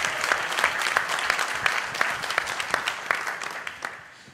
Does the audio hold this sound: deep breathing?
no